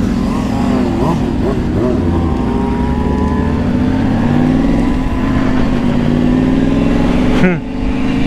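A motorcycle's exhaust roars and revs on a wet highway in the morning, a loud, close engine drone rising and falling steadily, with someone speaking over it.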